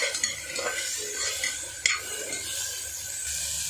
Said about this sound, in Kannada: ನಾನು 1/2 ಈರುಳ್ಳಿ ಮತ್ತು 1/2 ಟೊಮೆಟೊನ ಕಟ್ ಮಾಡಿ ಇಟ್ಕೊಂಡಿದ್ದೀನಿ, ಅದನ್ನು ಹಾಕೊತ ಇದ್ದೀನಿ.